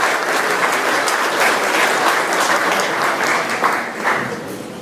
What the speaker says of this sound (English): Let's give her a round of applause for being